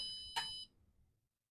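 A single short electronic beep from an Evenheat kiln's alarm rings out clearly, then cuts off, leaving quiet background.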